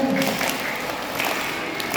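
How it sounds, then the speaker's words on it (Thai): Children in a school morning activity clap their hands together, a continuous, fairly soft patter of many small hands for about two seconds, with a voice briefly heard at the start. "ได้ไหมอ่ะปรบมือปรบมือเธอช้างเนาะปรบมือ"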